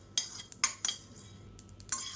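Whole spices dry roasting in a pan for chicken biryani masala, heard as sparse, light metallic clinks and scrapes of a spoon stirring, a few sharp ticks spaced irregularly over a quiet background.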